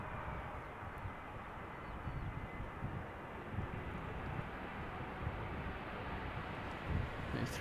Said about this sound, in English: A320 Neo arriving from Reykjavik, flight 460.